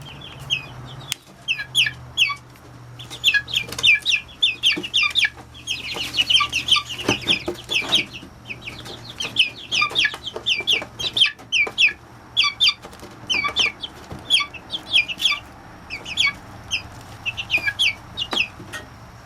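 Chicks and chickens in a backyard coop cluck and peep in a busy, irregular stream of short calls, close and fairly loud, with no talking.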